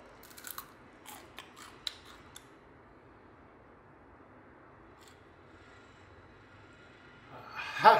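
Hard shell of a hermit crab's back being bitten and chewed, a few sharp crunches early on, then quiet with a louder crunch at the end, close up.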